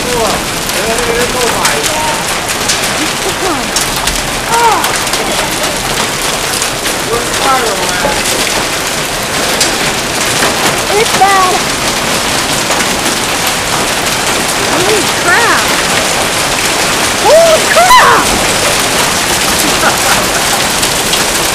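Heavy rain pours down hard during a storm in Wyoming, a dense, loud and steady hiss of drops hitting surfaces for the full stretch, with brief distant voices now and then.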